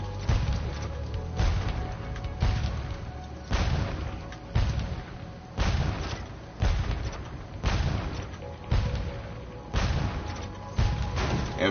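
Rapid-fire shooting in Spyro 3: a run of heavy booming blasts repeating at a steady pace of roughly one every second, loud and close, each with a short rumbling tail, no voices.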